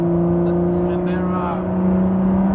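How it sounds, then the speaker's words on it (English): Steady, loud drone of a Ford GT's V6 exhaust heard from inside the car on the Nürburgring, a constant tone with a faint voice murmuring briefly beneath it. "I very much like the exhaust note of the V6. It sounds very nice on the inside."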